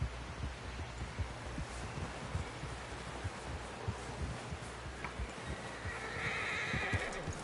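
A horse in a PS4 video game whinnies over a steady clip-clop of hooves, the rhythmic thuds of its gait running throughout at close range beneath a dense wash of background noise.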